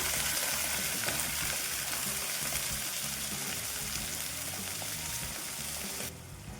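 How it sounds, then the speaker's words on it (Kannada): Onion masala (spicy onion palya) sizzles loudly in a pan after water is added, a dense, steady frying hiss with faint stirring that drops away at the very end. "ಒಂದ್ಸರಿ ಮಿಕ್ಸ್ ಮಾಡಿಕೊಂಡು ಒಂದು ಸ್ವಲ್ಪ ನೀರು ಹಾಕ್ತೀನಿ. ನೀರು ಹಾಕಿ ಬೇಯಲಿಕ್ಕೆ ಬಿಡ್ತೀನಿ."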